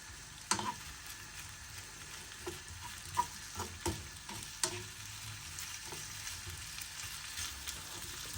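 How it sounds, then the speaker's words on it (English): Potatoes and onion frying in a pan for Bratkartoffeln, a steady close sizzle with occasional crackles and a few sharp pops or stirring clicks, no talking. "Right, they're starting to fry."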